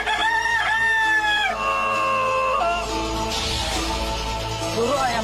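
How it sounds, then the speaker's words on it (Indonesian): A magic rooster crows loudly and close by in a long, drawn-out call with several rising and falling phrases, over a low background hum. "Suruh ayam lu berhenti memperdengarkan suara yang fasik."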